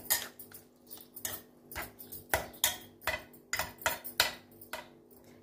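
A spoon stirs chopped raw onion into mashed aubergine for baingan sabji, making a steady rhythm of light clinks and soft scraping against the bowl, close and fairly quiet.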